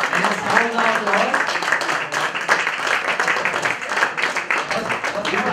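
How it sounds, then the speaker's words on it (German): Carnival (Fasching) crowd applauding sketch performers, steady, dense clapping filling the whole stretch, with voices mixed in. "Ich meine, das Outfit da lang, die sind ein Applaus wert. Einen sauberen Applaus."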